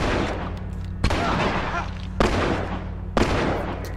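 Shotgun blasts from the video game The Last of Us boom three times at roughly one-second intervals, loud and punchy over a continuous low rumble of game sound.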